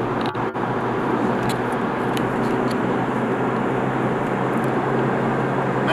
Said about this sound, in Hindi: मैंने 140 पे थ्रॉटल पूरा दिया and I was push back to my seats, I am 160 now in fourth gear